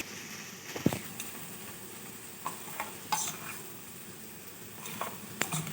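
Drumstick stalks fry in hot oil with a soft, steady sizzle while a utensil stirs the pan, making a few sharp clinks and scrapes that come and go.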